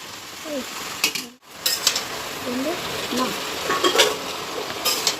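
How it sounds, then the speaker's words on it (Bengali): Ridge gourd and leafy greens being stirred in a sizzling pan, a spoon scraping and clinking against the metal in irregular strokes over a steady fry, with one brief silent gap. "এই যে শাকটা দিয়ে নেড়ে চেড়ে নেবো"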